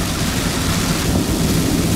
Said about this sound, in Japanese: ちょっと雨が本降りになってきました